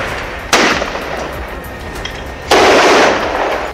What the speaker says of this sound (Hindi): लेकिन जैसे ही वो मकान के नजदीक पहुंचे गोलियां चलने लगी।